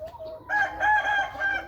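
A rooster crows close by in a single short, strained call with a few rising and falling pulses, fairly loud and alone.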